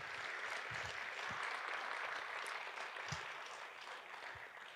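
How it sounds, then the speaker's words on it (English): An audience applauds the volunteer organizers of a Build Maine gathering in Skowhegan, a steady, even wash of many hands clapping that holds for about five seconds at moderate level with no talk over it. "Can we give them a round of applause?"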